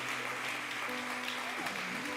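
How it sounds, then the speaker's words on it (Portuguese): A church congregation applauding during a celebration service, a steady wash of clapping under a sustained low hum, with faint talk mixed in. "Aplauda o Senhor, aplauda o Senhor"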